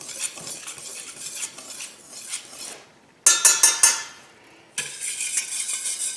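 Dry ingredients including brown rice flour for gluten-free waffle or pancake batter are mixed in a bowl, giving a close, steady scraping and stirring with a few sharper clinks of a utensil against the bowl and brief pauses.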